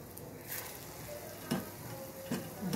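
Chillies coated in batter frying in hot oil for mirchi bhaje, a steady close sizzle with a few brief louder crackling bursts as pieces settle, no talk.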